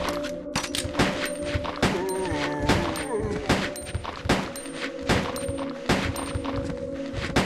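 Rapid handgun shots ring out from Resident Evil 2, a steady run of loud, sharp reports about twice a second over a dense game backdrop of sustained tones and effects.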